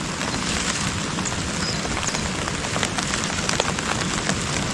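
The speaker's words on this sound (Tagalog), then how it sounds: "ulan na naman." Steady rain falls on surfaces nearby, a dense, even hiss with scattered drip patter and no breaks throughout.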